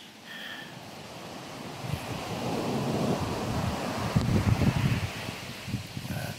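Sea waves washing onto a closed private beach on a drizzly day, a steady broadband surf wash mixed with wind buffeting the microphone, building slightly louder toward the end with no talking.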